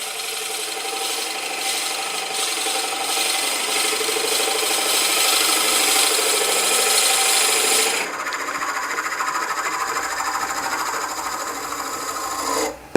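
A bit bores into a small wooden box turning on a lathe, giving a loud, continuous grinding rasp up close that drops abruptly to a lighter, steady scraping hum partway through, with no voices.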